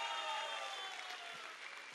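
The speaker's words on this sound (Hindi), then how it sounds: "दोस्तों बहुत बड़ी तालियां।" Audience applause at an LIC agency rewards event, a faint, steady wash of clapping from a crowd lasting about two seconds.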